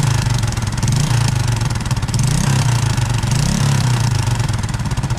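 A Honda RS 125 motorcycle engine runs loud and close, a steady buzzing drone that rises and dips in pitch several times as the throttle is blipped, with no talking over it.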